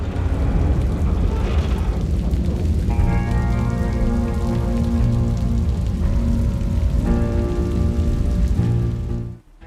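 Heavy rain pours steadily throughout a film scene, a dense constant hiss under which a low sustained musical drone swells and fades.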